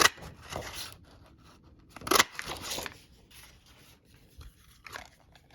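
Scissors snipping through designer series cardstock paper during card making, a few close, crisp cuts in separate bursts with quiet gaps between them.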